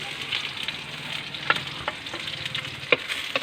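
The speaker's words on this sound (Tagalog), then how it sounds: "At ginisa na nga niya lahat ng pampalasa" Ginger, green chili and spices sautéing in oil for chicken tinola, a steady close sizzle with a few sharp spoon-scrape clicks against the pan.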